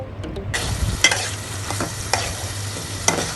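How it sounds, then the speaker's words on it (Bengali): Catfish (magur) being gently stirred and fried in a spice paste in a pan: a steady close sizzle with a few scraping stirs and soft clinks, no talking. "মাছগুলোকে আমি আলতো হাতে মশলার মধ্যে কষিয়ে নিব"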